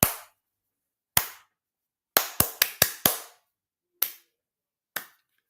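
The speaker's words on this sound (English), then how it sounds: "Let's get Dak a slow clap." Separate hand claps sounding alone, slow and widely spaced at first, then a quick burst of five, then two more spaced claps, a deliberate mock slow clap.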